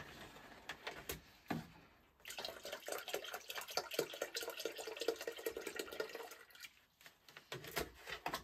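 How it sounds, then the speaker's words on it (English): Water pours steadily into a container of hydroponic nutrient solution in an indoor grow tent, a continuous splashing stream lasting several seconds with a short pause partway through. No one speaks. "So I'm going to just add some more water to this one as well."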